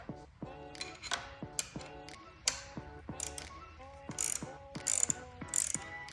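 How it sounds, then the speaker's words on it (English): A 3/8 ratchet clicks in short repeated bursts while loosening the negative battery terminal on a 2022 Harley-Davidson Low Rider S, close and crisp with brief pauses between strokes. "right now I'm gonna disconnect my negative terminal with a 3/8"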